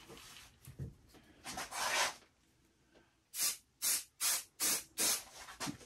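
Stoner silicone mold release is sprayed into a pen-blank mold in about five crisp, evenly spaced hissing bursts, close and clear, after a few softer rubbing and handling noises.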